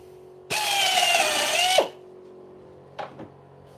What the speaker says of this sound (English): Right, so I'm going to drill some holes.